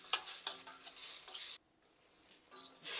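A spoon stirs a cabbage, beans and carrot coconut milk curry in a pan, scraping and sizzling in close, steady strokes with a short pause before the stirring resumes.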